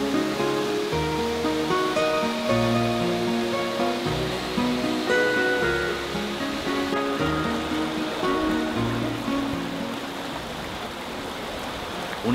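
A stream plunges 25 metres into the Ebro river at Orbaneja del Castillo, pouring over mossy rock with a constant rushing splash and roar, heard under background music and with no voices.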